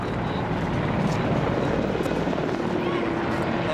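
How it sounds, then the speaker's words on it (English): A helicopter of the Israeli Air Force drones steadily overhead during earthquake relief in Muzaffarabad, Kashmir, a continuous rotor and engine rumble with a voice talking over it. "And now these helicopters, I think this one's from Israel."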